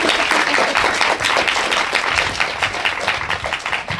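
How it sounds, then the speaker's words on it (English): Sustained applause and clapping from an audience at a cycling community talk event in Philadelphia, steady and fairly loud across the whole stretch with a dense crowd texture. "So I want you guys to give a round of applause"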